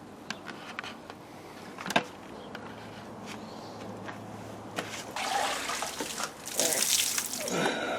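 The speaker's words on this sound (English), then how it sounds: "fill it up with water." Water runs into a bucket holding a block of coir, starting with faint trickles and a knock, then swelling into a louder rushing pour during the second half.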